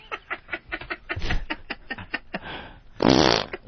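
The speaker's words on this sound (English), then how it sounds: "It's the fart game." A fart sound played during a radio fart guessing game, heard as a loud, raspy sputter near the end, preceded by a rhythmic run of short pulses and faint snickering.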